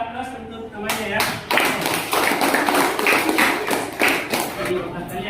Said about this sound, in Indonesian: Silakan aplaus untuk temannya ya